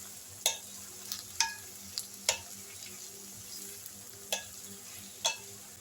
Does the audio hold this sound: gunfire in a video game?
no